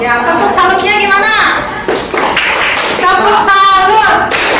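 A classroom group performs a clapping cheer, rhythmic claps mixed with voices chanting together loudly and continuously, with a brief dip partway through before the chant resumes.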